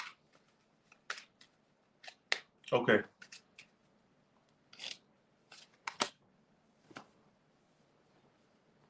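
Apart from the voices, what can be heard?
shuffling tarot cards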